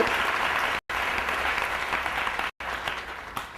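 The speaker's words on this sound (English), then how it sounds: "Let's give a good clap for their arrangement" Audience applause at a live talk, broad dense clapping sustained throughout with two brief cuts to silence.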